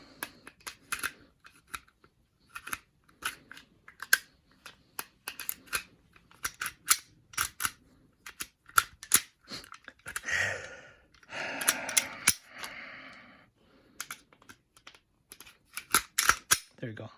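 Glock pistol reassembled by hand, barrel and recoil spring seated and the frame grabbed: a run of sharp close metallic clicks and snaps with brief rustling handling, alone without talk.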